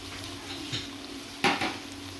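Ground spice masala tipped into a pot for mixed pickle: a soft scrape and rustle, then a sharper clatter of a utensil against the metal pot near the end, close and fairly quiet with no talking.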